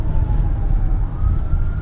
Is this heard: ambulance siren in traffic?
yes